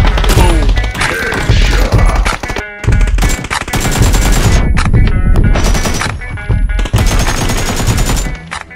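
Sniper rifle fire in a shooter video game, loud and close, with heavy booming shots layered over continuous game sound and dense impact noise throughout.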